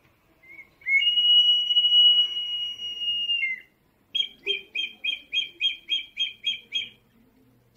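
An Inca whistle jar imitating a kestrel gives a shrill, wavering whistle for a few seconds, then a rapid series of about eleven short, sharp whistled chirps, clear and close.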